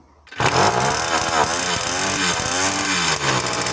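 A restored Delta moped engine starting up and running: a loud, rapid two-stroke putter that kicks in sharply after a brief quiet start and keeps a steady rhythm, with slight rises in revs, and no voices.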